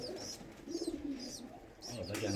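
Fantail pigeons coo in a loft, soft repeated throaty calls at close range with a low murmur of other birds and some voice-like sound underneath.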